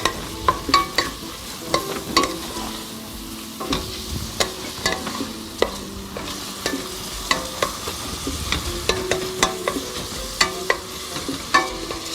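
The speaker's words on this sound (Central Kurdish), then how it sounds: "گێزەرەکەی شەبێ کەمێک سوور بێتەوە لە ناوڕۆنەکە" Carrots and onions fry in oil in a pan while a utensil stirs them, giving repeated scraping clicks and knocks over a steady close sizzle, with no talking.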